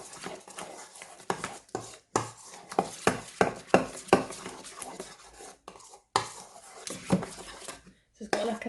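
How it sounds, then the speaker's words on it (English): A utensil stirs chicken marinade tinted with red food colouring in a bowl, giving uneven clinks and scrapes of metal against the dish at close range, followed by a short pause. "I'm just going to continue to stir this"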